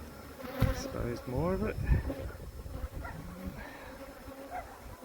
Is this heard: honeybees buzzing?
yes